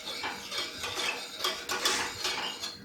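A spoon stirring melted chocolate into coffee in a cup clinks and scrapes in quick repeated strokes, close and steady, with no talking.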